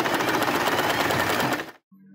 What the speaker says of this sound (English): Sew the fabric.